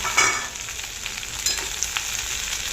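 Shredded cabbage frying in a mustard seed, cumin and curry leaf tempering, giving a steady close sizzle with faint crackles and brief stirring scrapes throughout, no talking.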